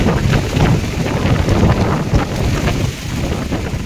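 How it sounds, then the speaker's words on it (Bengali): Strong storm wind sweeping in suddenly during the first monsoon storm in Mumbai in early June, a steady loud roaring rush with gusty buffeting across the microphone throughout, no voices. "হঠাৎ করেই বেশ ভালো জোরে ঝড় উঠেছে"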